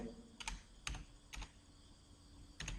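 Excel formula typed on a computer keyboard, four separate sharp key clicks spaced irregularly with quiet gaps, close but faint, no talk.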